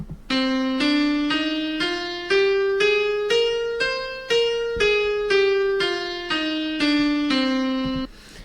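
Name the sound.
natural minor scale played on an instrument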